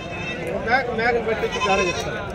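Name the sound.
goat bleating at a goat market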